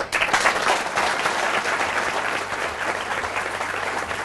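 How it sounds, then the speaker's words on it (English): A warm round of applause from a seated audience at a high school pitch event, dense and steady clapping from many hands, fairly close and loud, tapering slightly toward the end with no speech over it. "A warm round of applause for Jennifer Palfy and SmartCast"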